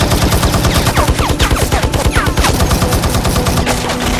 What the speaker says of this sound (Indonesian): teroris dengan senjata mesinnya dan mulai menembaki semua pengawal presiden di luar Gedung Putih